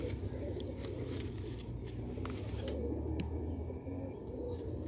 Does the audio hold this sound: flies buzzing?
no